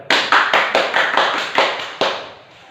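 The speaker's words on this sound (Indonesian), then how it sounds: "Tepuk tangan untuk Mbak Amel" A classroom of students claps in praise of a classmate, Mbak Amel: about seven crisp, evenly spaced group claps in a steady beat, close and loud, ending with a short fade.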